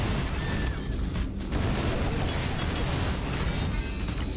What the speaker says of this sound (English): There's an awful lot of explosions happening.